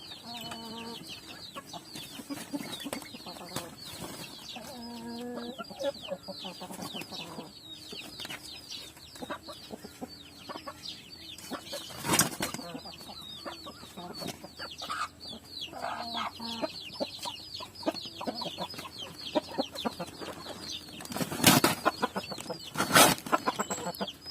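Red junglefowl hens clucking in a captive pen, a lively mix of repeated clucks and short calls close by, with occasional louder bursts of movement or scuffling.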